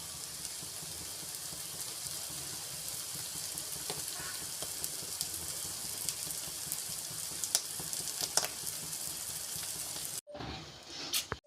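Clam meat roasting in coconut oil sizzles and crackles steadily in a pan, a dense continuous frying hiss with occasional sharper pops, briefly interrupted near the end by a stir or a shift in the pan.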